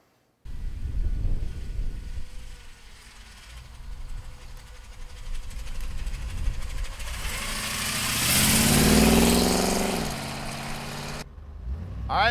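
A chopped-top 1930 Ford street rod's engine runs steadily and close, rising into a louder revving surge partway through before settling back, with no talk over it.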